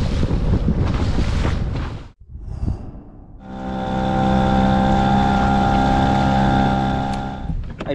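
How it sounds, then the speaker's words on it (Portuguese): Strong wind buffets a boat at sea off the São Paulo coast, a loud roaring rush that cuts out briefly before returning with a steady droning engine-like hum underneath; no one speaks. "vou pegar um pouco do vento, tá ventando aqui ainda"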